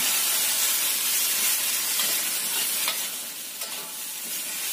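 Vegetables with spring onion and bean sprouts stir-fried in a hot pan, a steady loud sizzle and hiss with faint stirring scrapes, close up and with no one speaking.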